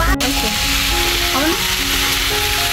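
Leafy greens (shak) frying in a pan give off a loud, steady sizzle that runs the whole time, with faint tonal hums in the background.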